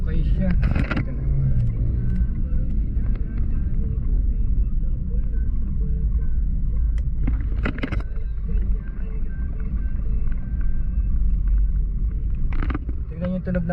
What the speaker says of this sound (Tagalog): Tingnan yung tunog ng makina.